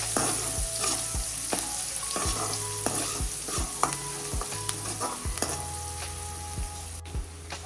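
Chopped onions with curry leaves sauté in hot oil in a pan, giving a continuous crackling sizzle broken by repeated dull thumps and scrapes of a spoon stirring.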